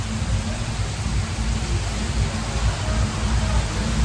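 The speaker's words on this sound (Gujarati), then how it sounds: "અને ભયંકર વરસાદ ચાલુ છે." Heavy monsoon rain pours down in a dense, steady roar of broadband noise with a low rumble beneath, constant and unbroken throughout, in Lonavala, Maharashtra.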